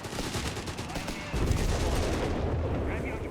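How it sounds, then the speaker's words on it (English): Artillery and gunfire rumble through a Company of Heroes 3 battle, a dense continuous barrage of shots and booms with a heavier, louder stretch partway through, fairly close and steady throughout. "German positions are being bracketed with artillery and gunfire."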